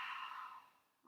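A slow, deep breath out through the mouth during a guided grounding and relaxation session, soft and close, fading away before the faint start of the next breath.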